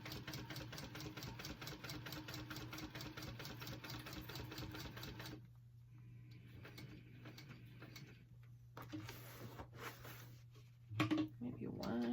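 A sewing machine top stitching vinyl on a tote bag runs in a fast, steady mechanical rhythm for several seconds, then stops, leaving quiet handling noises and a low hum.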